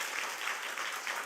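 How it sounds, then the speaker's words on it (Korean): Warm congregational applause in a church welcomes two people, a steady dense clapping that fills the whole moment without any voices over it. "큰 박수로 환영하겠습니다"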